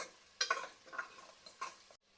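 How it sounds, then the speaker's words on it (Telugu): Onions frying in a pan toward light brown while being stirred, scraping and stirring strokes in bursts over a soft sizzle, ending in a brief near-silence. "ఇప్పుడు ఈ ఆనియన్స్ మంచిగా వేగి లైట్ బ్రౌన్ షేడ్కి టర్న్ అవుతూ ఉంటాయి కదా, అప్పటి వరకు ఫ్రై చేసుకోవాలి"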